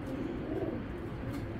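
Racing pigeon with a Belgium 2021 foreign leg ring, cooing softly and continuously up close over a steady low background, no talk.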